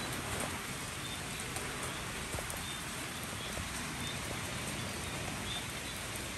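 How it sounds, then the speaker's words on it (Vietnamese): Steady heavy rain falling in a tropical downpour, a dense continuous hiss with scattered close drops striking surfaces, loud and unbroken throughout with no voices. "Màn hình đã dính nhiều nước mưa quá."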